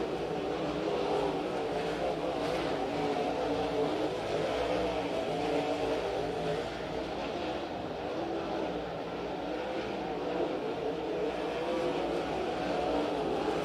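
Race cars lapping the Stockton dirt track during a NARC event, their engines roaring steadily and loudly throughout as the field circles, with revving and passing cars blending into a continuous din.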